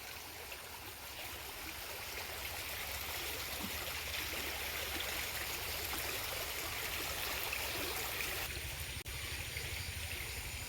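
Flowing stream water, a faint, steady rushing wash heard from nearby and continuing unbroken throughout, with no one speaking.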